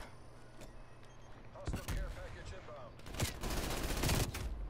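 Video game gunfire crackles in bursts, a sharp volley near the two-second mark and a longer, denser stretch of shots from three seconds on, over a steady low game background hum.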